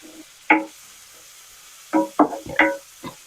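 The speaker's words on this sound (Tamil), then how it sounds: "வதங்கின ஒன்று தக்காளியும் போட்டு நல்லா வதக்கணும்." Tomato and onion sauté in a pan. A spoon scrapes and stirs in a handful of short, distinct strokes, close by, over a quiet background with no talk.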